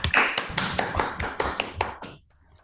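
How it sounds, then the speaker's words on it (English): A remote audience applauds after an online mathematics seminar talk, with short bursts of clapping that rise and fall for about two seconds before fading to near silence. "So maybe some applause first."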